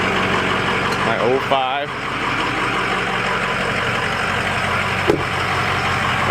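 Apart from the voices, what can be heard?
Ford 6.0 Powerstroke diesel truck idling, 4-inch straight pipe exhaust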